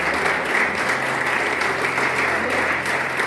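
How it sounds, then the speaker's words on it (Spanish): Steady, dense applause from a crowd gathered at a church or community meeting welcoming a newcomer, loud and continuous throughout with no voices standing out. "Mirta, un aplauso para ella"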